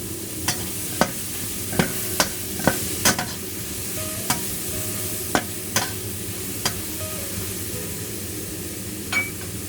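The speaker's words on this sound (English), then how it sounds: "Stir fry over high heat." Vegetable stems stir-fry over high heat under a steady sizzle, punctuated by sharp, regular clinks and scrapes of a spatula against the wok, roughly one every second.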